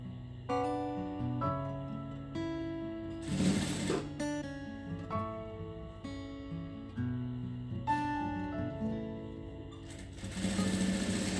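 A sewing machine stitches a small scrap of cloth in several runs, close and steady whirring bursts that start and stop, separated by short pauses and handling sounds.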